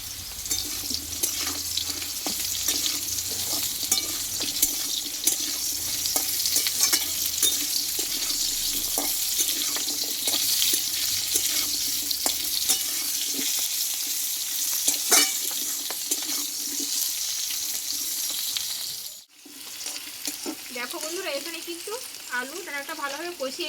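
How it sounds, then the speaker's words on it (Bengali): Potato pieces and cut vegetable stems sizzle steadily in oil in a kadai while a spatula stirs and scrapes through them, a continuous close frying hiss with small clatters, briefly cut off near the end before resuming. "কেটে রাখা আমি ডাটাটাকে দিয়ে দেবো একসঙ্গে কষে নেবো আলুর সঙ্গে"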